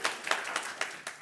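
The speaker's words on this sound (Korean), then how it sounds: "박수 한번 쳐주세요" Church congregation clapping during a Sunday service, a brief burst of scattered, moderately loud claps in an irregular rhythm, with no voices over them.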